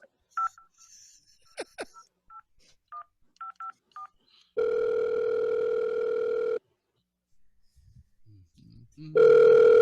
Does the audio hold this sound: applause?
no